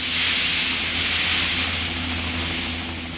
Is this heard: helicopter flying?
yes